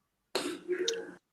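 A single rough cough from someone with the flu, short and close, standing alone against silence.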